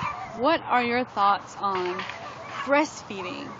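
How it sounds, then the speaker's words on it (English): Neighborhood dogs yip and bark in a loose, irregular series of bursts at moderate distance outdoors in Texas, mixed with a woman's speech that runs over and between them. "I don't know if you can hear the barking going on,"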